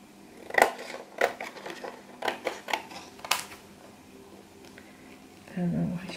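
Scissors cut through a thick acetate sheet in a handful of sharp, separate snips that are close and fairly quiet, with a brief pause in between and a soft voice speaking near the end.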